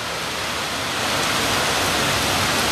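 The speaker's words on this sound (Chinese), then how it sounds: "好撚大雨哦" Heavy rain pouring on a street in Prince Edward, Hong Kong, a dense, loud, unbroken roar of downpour with no voices over it.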